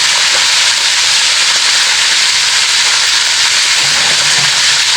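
Chicken frying in hot oil in a pan, a loud, steady, close sizzle and hiss that runs continuously with no talk.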